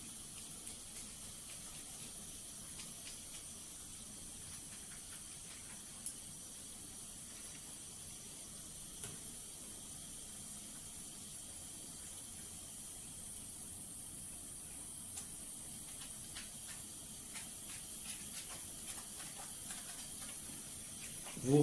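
Tap water runs steadily during hand rinsing, a faint continuous hissing flow with light splashes, close by and without talk.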